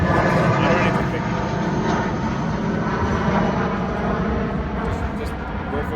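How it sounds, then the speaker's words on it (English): An airplane passes overhead, its engine drone forming a steady broadband roar that fills the whole stretch, loud and continuous, with people talking underneath it. "Here comes another plane."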